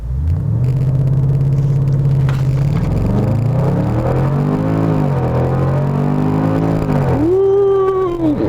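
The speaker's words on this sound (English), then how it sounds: "Let's build up some revs." A 2017 Range Rover Sport SVR in sport mode with the exhaust open revs up close and loud, the engine note climbing in repeated surges from a steady rumble to a higher roar.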